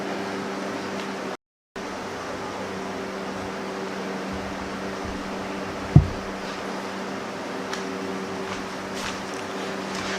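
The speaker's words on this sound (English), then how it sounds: "I've got the aircon going" A steady air conditioner hum with broadband hiss runs throughout, with a brief dropout near the start and a single soft knock midway.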